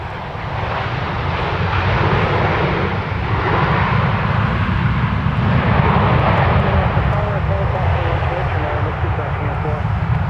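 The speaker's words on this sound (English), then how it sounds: "that arrival that we just had was from San Francisco, Delta Flight 2178" A Delta airliner arriving from San Francisco at Minneapolis–St. Paul airport roars past as a loud, sustained jet engine rumble with a broad hiss on top, swelling toward the middle and holding steady to the end.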